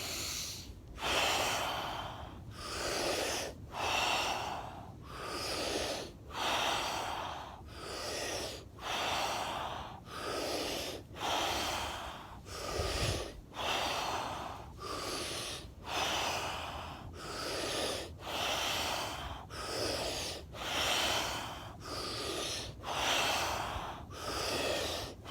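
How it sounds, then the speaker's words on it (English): Rapid, rhythmic Wim Hof method breathing by a lake: strong inhales and exhales repeat about once a second for the whole stretch, close and loud, with no talking. "30 breaths. Inhale."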